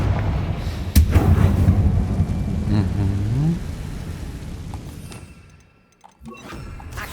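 A Confringo fire-blast spell from the game Hogwarts Legacy bursts with a sharp impact near the start, followed by a loud, roaring, crackling rush and a swooping tone that fades into quiet before a final thud.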